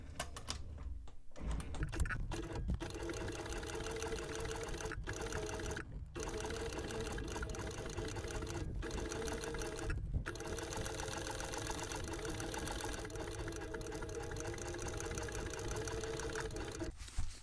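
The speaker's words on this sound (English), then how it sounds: "So I've stitched all around the edge, including the toe area." A sewing machine stitches around the edge of a steel-lined leather holster, running as a close, steady, continuous mechanical chatter for the whole stretch with a few brief pauses and no talk.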